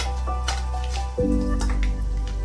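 Whole spices tempering in hot oil for a Bengali catla fish curry with potatoes, a steady close sizzle and crackle that thickens into a louder fry after a sudden change partway through.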